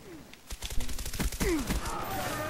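Rapid bursts of gunfire at a firing range in Call of Duty: Black Ops, a quick ragged string of shots close by, with groaning vocal sounds mixed in.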